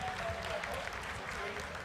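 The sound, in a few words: applause in mission control during Chandrayaan-3 descent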